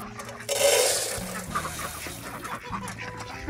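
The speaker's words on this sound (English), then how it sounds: "These are runner ducks." Runner ducks in a farm pasture give a burst of loud, rasping quacks and honks, followed by scattered quieter calls from the flock nearby.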